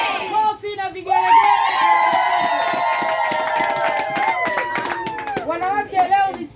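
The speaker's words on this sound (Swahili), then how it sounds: "Kofi na vigelegele." Women clapping and ululating in a Tanzania Assemblies of God church, loud sustained high trilling cries over rhythmic clapping, with a voice speaking over the crowd near the end.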